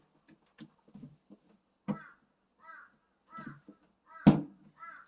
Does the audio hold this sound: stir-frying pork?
no